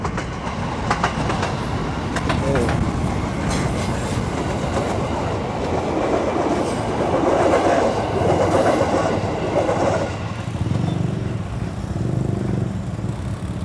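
A train rumbles past nearby with a continuous roar and rhythmic clatter of wheels on rails, loud throughout; a voice briefly speaks over it.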